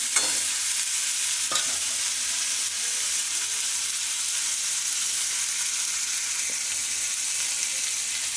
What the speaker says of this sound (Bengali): চিকেনটা ভাজা ভাজা হচ্ছে